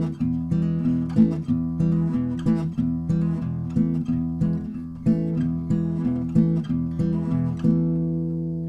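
Undamped blues rhythm on guitar: strummed chords ring into each other in a steady, bouncy pattern, played alone and fairly close.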